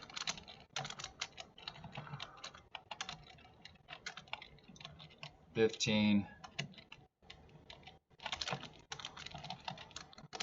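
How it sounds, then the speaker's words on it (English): Rapid, irregular keyboard typing clicks away up close, in bursts with short pauses and one louder clattering moment midway. "Man, typing."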